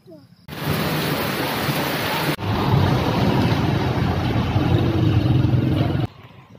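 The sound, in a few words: thunderstorm with rain approaching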